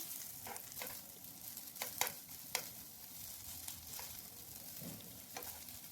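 Cauliflower and red lentil fritters shallow-frying in a little oil over low heat, a soft steady sizzle with a few sharp crackles and spatula taps as pieces are turned.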